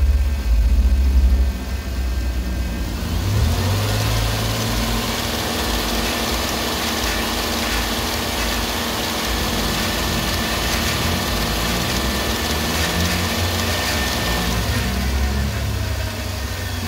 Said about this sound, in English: increase engine speed to 2500 RPM and hold it